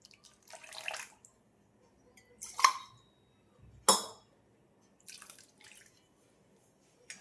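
Water is poured into whisked yogurt in a bowl for Punjabi-style kadhi. Four or five short, separate splashing pours come up close against a quiet background, with a faint clink of the vessel.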